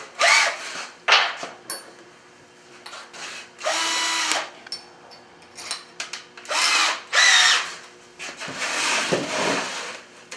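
A power drill bores holes into a styrofoam snow base, running in a series of short whirring bursts separated by pauses, close and fairly loud.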